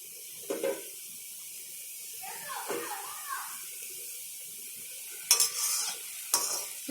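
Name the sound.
wheat flour snack pieces deep-frying in oil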